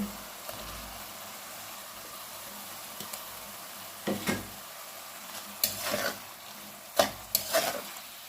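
Pieces of rohu fish fry in spice paste under a low, steady sizzle, with spoon-stirring scrapes that start sparse and come louder and more often toward the end.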